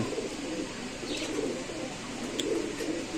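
Pigeons coo softly and continuously at a market stall selling Pakistani Giribaz and racer pigeons, a low, steady murmur with no talk over it.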